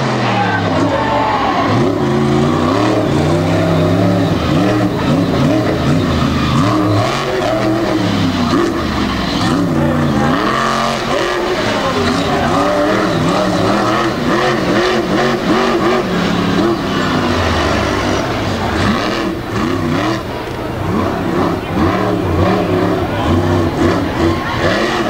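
A race truck roars at full speed around an off-road track at the Thunder in the Valley event, its loud engine revving and shifting continuously, with crowd noise and announcer commentary faintly underneath.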